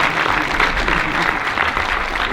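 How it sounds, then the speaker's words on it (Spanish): Steady, dense crowd applause for Óscar Martín at a live event in Sombra, Madrid, loud and sustained throughout with no talk over it. "Óscar Martín, por favor, aplausos para él."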